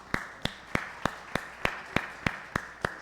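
Slow, evenly spaced claps ring out one at a time from a church congregation, about ten crisp beats at a steady rhythm, fairly quiet and with nothing else over them.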